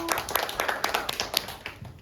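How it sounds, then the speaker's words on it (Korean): Kindergarten children clap together in a classroom, a dense patter of small hands lasting a couple of seconds, with faint voices mixed in. "발표 잘해준 선생님한테 박수."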